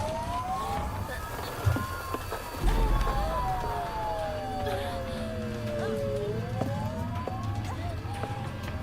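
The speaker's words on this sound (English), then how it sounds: "Police sirens?" Wailing police sirens in the video game Silent Hill f, a rising and falling tone heard at moderate distance in a murky ambience, with occasional thuds and voices talking over it.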